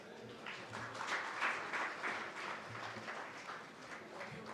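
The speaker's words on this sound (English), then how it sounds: "I request all of you to please give her a big round of applause." An audience at the NTR Trust 29th Foundation Day celebrations applauds to welcome Nara Bhuvaneswari, a soft continuous patter of many hands that swells slightly and then settles, heard at a distance in a large hall.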